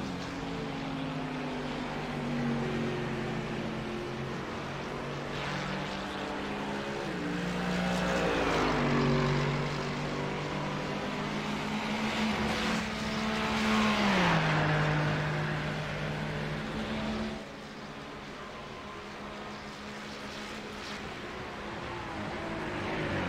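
GT3 race cars lapping Monza, one with a Mercedes engine, make a loud sustained engine roar whose pitch climbs and falls in long sweeps as the cars pass and shift, with a brief dip in volume near the end.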